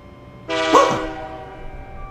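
Horn from a passing train being watched, one loud harmonic blast that starts abruptly, holds about half a second and fades over a low rumbling background.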